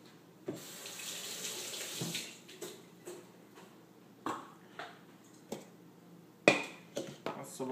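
A kitchen tap runs into a sink while blackberries are rinsed for gelato, a steady close splash broken by small clinks and knocks of handling.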